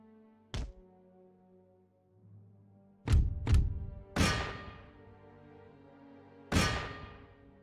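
Howitzer artillery fires in Empire: Total War, heard as a few separate heavy booms with ringing tails, spaced a second or more apart over a low ambient bed.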